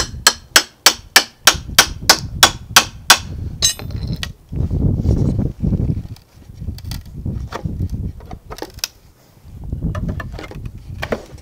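A wooden shipping pallet's nailed boards get worked apart: a quick run of about ten loud, evenly spaced hammer strikes, then creaking, groaning wood and scraping as the boards are pried loose, close by.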